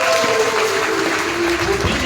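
A church congregation claps together in a sustained burst of applause, with a voice speaking over it.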